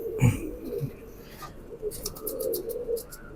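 Pigeon cooing among a flock of kabootar, a low murmuring coo repeating near the start and again later, with faint chirps and rustling around it.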